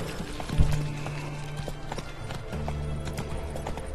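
Hoofbeats of a horse galloping in The Witcher 3 video game, a steady clip-clop rhythm running throughout, with a brief whinny near the start and a low droning game tone underneath; no one speaks.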